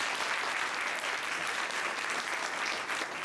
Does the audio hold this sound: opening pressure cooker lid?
no